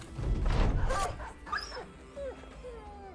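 A dog in the Battle Brothers game barks loudly up close, then lets out several short yips and whimpers that grow softer and more spaced out.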